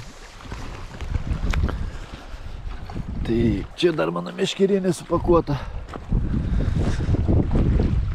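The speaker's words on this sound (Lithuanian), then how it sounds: "vėjas tai tikrai nemažas" Strong wind gusts over an island campsite by the water, a steady blustery rumble buffeting the microphone while a person talks partway through.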